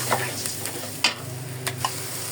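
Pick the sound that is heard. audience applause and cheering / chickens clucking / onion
onion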